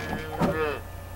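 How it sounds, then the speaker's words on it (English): A cow moos once in the Barnyard video game, a short, clear call rising and then fading, with no talk over it. "We're a cow."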